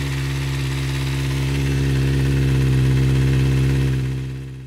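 A car engine missing its catalytic converter runs loudly close by, a deep, steady, droning idle rumble that swells slightly, then fades at the end.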